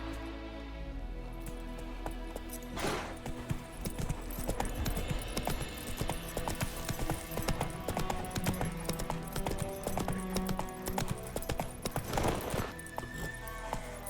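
Hooves of Roach, the horse in The Witcher 3, clip-clop in a steady rhythmic trot throughout, close and fairly loud over a bed of game music, with no talk.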